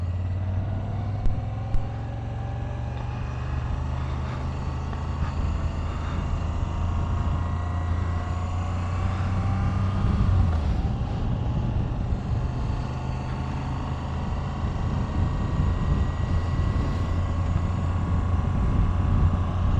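Steady riding on a Moto Guzzi V85TT motorcycle, its engine droning under constant wind rush, with shifting tonal whines rising and falling across the ride and no voices.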